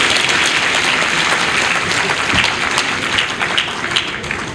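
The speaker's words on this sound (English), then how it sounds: "Please take a moment to clap hands for yourselves on this critical service you provide to the" A conference audience at a scientific nursing gathering applauds, a thick continuous clapping from many hands that stays loud and even, then eases slightly toward the end.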